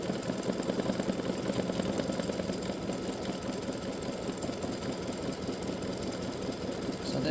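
An embroidery machine stitching freestanding lace bat earrings in satin stitch, its rapid mechanical clatter steady and close, running continuously without pause.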